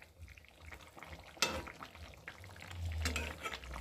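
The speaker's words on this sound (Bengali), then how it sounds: "ভালো করে নেড়ে দিলাম।" Cauliflower curry with lentil dumplings stirred in a pan, quiet bubbling and frying with a couple of sharp scraping strokes, the sizzle growing somewhat louder toward the end.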